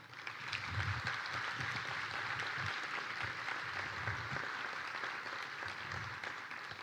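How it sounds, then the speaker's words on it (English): An audience at the 2023 Mānoa Awards Ceremony gives sustained applause, a dense, even roar of clapping heard from a distance and fairly quiet, lasting throughout. "Please, a big round of applause."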